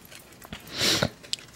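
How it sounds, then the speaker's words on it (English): A single close, breathy sniff through the nose, followed by a couple of faint clicks and taps. "excuse my sniffing"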